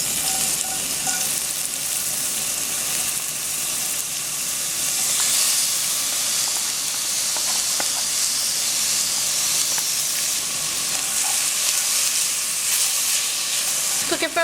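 Vegetables and onions fry in a pan over medium heat, giving a steady, even sizzle and hiss that continues throughout with no voices.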